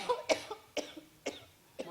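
Four short, harsh coughs come in an evenly spaced series, close and moderately loud, from a person who is short of breath.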